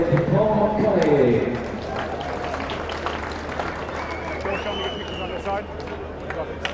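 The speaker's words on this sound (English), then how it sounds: "the crowd applauding him as he comes off" Rugby crowd at a Scotland U20 versus Japan U20 match in the World Rugby U20 Trophy 2024 applauds a Scotland player leaving the field, a steady wash of distant clapping and crowd noise under a commentator's voice.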